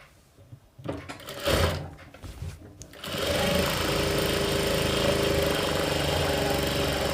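Electric sewing machine stitching a cotton princess-cut blouse, starting with a few short hesitant bursts, then running in one fast, steady, loud whir up close until the end.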